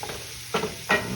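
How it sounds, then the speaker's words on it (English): Flour-dredged pork chops frying in a cast iron skillet, a low steady sizzle broken by two louder scraping stirs close up, with no voices. "I put flour and put the pork chops in there"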